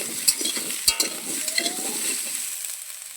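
Spice paste and chopped onion frying while being stirred, with sharp metal-on-pan clinks and scraping over a soft sizzle that fades toward the end.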